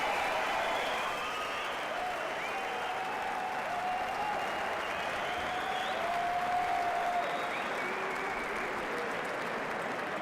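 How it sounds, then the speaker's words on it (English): Crowd at a padel match on the central court of the Lotto Brussels Premier Padel P2 giving sustained, dense applause and cheering that stays loud and even throughout. "Somehow they win the point and the crowd respond."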